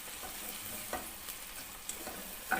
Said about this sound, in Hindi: ये प्याज ब्राउन करके मैं निकाल लूँगी, और इसके बाद दोबारा प्याज डालूँगी